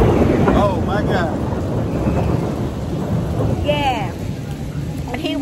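Heavy rain pours steadily outdoors with a dense, continuous roar and rumbling wind buffeting the microphone, while people talk and exclaim over it.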